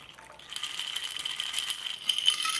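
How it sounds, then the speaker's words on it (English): A cocktail shaken in a shaker rattles quickly and brightly, the ice clattering louder after a soft start, near and alone. "We're going to shake this."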